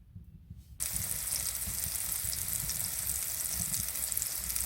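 Sausage frying on a Winnerwell hot tent stove in winter camp, a soft hiss that jumps into a steady, dense crackling sizzle, continuous and close.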